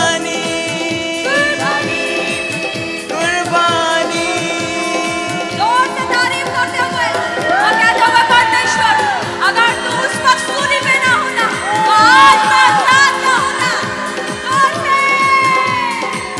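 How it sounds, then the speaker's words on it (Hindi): Loud rhythmic clapping and crowd cheering fill a church morning worship service, keeping steady time under continuous singing and instrumental music. "जोर से ताली"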